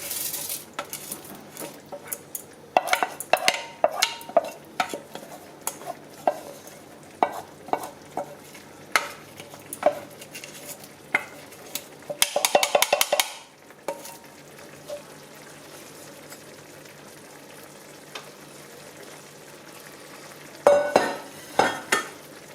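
Rice and chow mein noodles stir-fried together in a pan for a home-style Chinese chow mein, with intermittent scraping and tossing strokes, soft sizzle and clanks of a utensil against the pan, close and alone.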